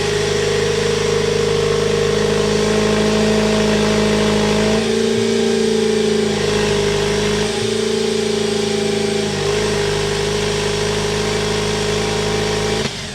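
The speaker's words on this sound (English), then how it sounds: "we'll start it up so you can hear the sound of the engine" A 2023 Jeep Wrangler Rubicon 4xe plug-in hybrid's 2.0-liter turbocharged inline four-cylinder engine runs at a steady, loud idle with a constant low hum, with a couple of brief dips in the drone.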